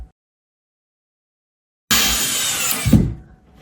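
A power drill runs one burst of about a second and a half, tightening screws on a DIY storage headboard. Silence comes before the burst, which is loud and close and ends in a slight thump.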